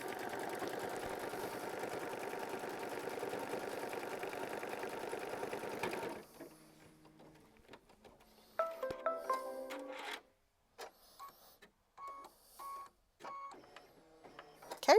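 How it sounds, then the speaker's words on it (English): A sewing machine stitches a quilt block seam, running in a dense continuous burst for about six seconds, then stopping and starting in short, irregular bursts of stitching with handling noise between. "And I'm going to stitch that down as well. This is going to be machine stitch step 13."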